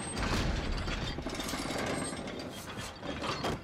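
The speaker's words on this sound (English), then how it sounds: "Raise the chandelier." Chandelier being raised by a mechanism in the Uncharted video game, a continuous grinding, clattering ratchet-and-pulley rumble with heavy mechanical churning that persists throughout, no speech.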